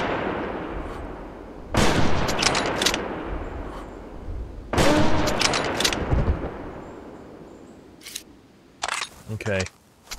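Rifle shots ring out while hunting dinosaurs in a prehistoric hunting game: two loud, echoing gunshots several seconds apart, followed by sharper clicks and bursts, with someone talking between them.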